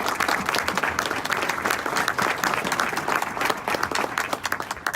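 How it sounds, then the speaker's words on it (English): An audience at a county business breakfast applauds, a dense, steady wash of many hands clapping throughout, loud and sustained without talk. "Give a chance for a round of applause for their good work."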